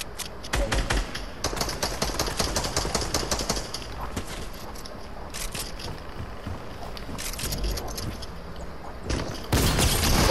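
Rapid bursts of video game gunfire in a duo match, crackling volleys of shots clustered early, fading into quieter background before a louder burst near the end.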